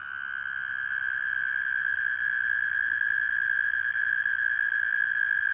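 A sustained high, steady trilling drone continues without pause, like many toads calling together from a pond, with faint background noise.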